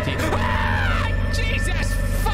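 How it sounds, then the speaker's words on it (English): A sudden startled yell bursts out amid a game's steady droning hum and tonal music, one sharp loud cry rising then falling, close and alone. "I didn't mean to scream like that."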